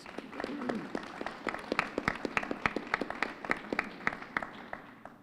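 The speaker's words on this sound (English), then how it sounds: "Let's give our scholars a round of applause and all of our educators." A small group at a mayor's town hall claps steadily for several seconds, sharp individual claps clustering into light applause.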